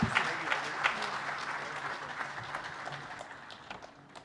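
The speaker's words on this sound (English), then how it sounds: "a warm applause for him as he takes the stage" An audience gives warm applause as the Deputy President of Kenya takes the stage at a water and sanitation international conference in Mombasa, a steady patter of many hands clapping that gradually fades, somewhat distant.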